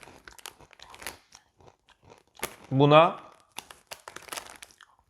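Samba potato chips crunched while eating, with small crisp crackles throughout and one loud chewing burst in the middle, close to the mic, around a brief spoken word.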